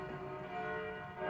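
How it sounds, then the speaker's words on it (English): Church bells ringing in Pécs, Hungary, a dense, sustained wash of overlapping tolls heard outdoors at moderate level, steady throughout without talk. "and yeah, there's the bells"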